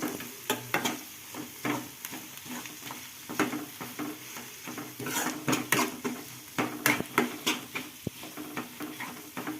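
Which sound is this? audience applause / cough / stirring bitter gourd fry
stirring bitter gourd fry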